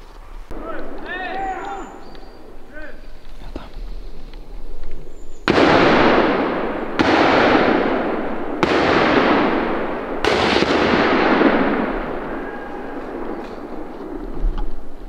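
During a driven group hunt in the Sudeten mountains, a series of sharp gunshots crack out about every one to two seconds, each ringing with a long echo across the hills, after a quieter stretch of outdoor ambience with faint birdsong.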